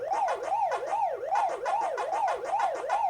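Pac-Man arcade game sounds playing from Google Chrome on an Android phone: a continuous looping electronic warble rising and falling several times a second, steady and fairly loud, with no talking.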